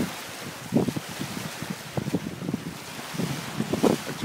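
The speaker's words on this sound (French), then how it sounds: "Actuellement, nous avons 6 à 7 nœuds de vent et nous avançons entre 6 et 7 nœuds." Wind buffets a sailboat running downwind at sea off Leucate in a 6 to 7 knot breeze, a steady rushing roar with gusts, water swishes and occasional creaks, with no talk.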